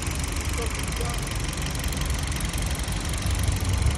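A car engine idles nearby with a low, steady rumble and faint knocking, running continuously throughout.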